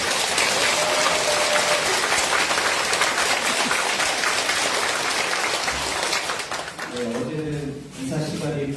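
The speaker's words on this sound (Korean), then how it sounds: "다시 한번 박수 부탁드립니다." A church congregation at Easter Mass applauding, with steady, dense clapping filling most of the stretch before it thins out and a voice begins speaking near the end.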